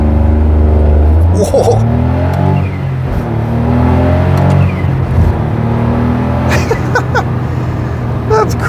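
A Smart Roadster W452, a small sports car, accelerates on a real road up to about 40 mph, with the engine note rising steadily and pitching through gear changes, loud and close from inside, while a person exclaims.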